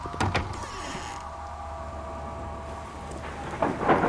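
Rain in the Kraven Manor horror video game, a steady hiss of falling rain with a low rumble and a few sharp clicks at the start and end.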